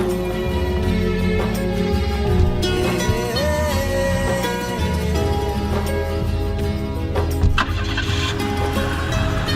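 A car engine turns over and runs steadily as people climb in, a loud continuous motor rumble with faint background noise and little talk.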